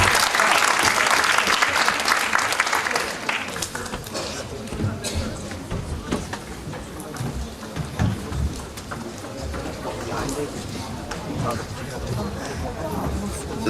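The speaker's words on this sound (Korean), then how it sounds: "박수 한번 주시기 바랍니다." Audience applause at a youth festival debate battle in Iksan, Korea, loud dense clapping at the start that thins into scattered claps and crowd murmur, with a voice speaking over it.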